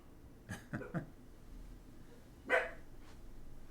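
A dog barks a few times in quick succession, then once more after a pause, faint and somewhat distant in a quiet room.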